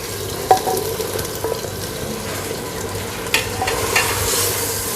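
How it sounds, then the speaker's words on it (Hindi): Taro root frying with chicken in ghee in a pot, a steady crackling sizzle with a few sharp stirring knocks from a spoon against the pan; no one speaks. "अब इसको 2-3 मिनट तक भूनना आपने इसमें।"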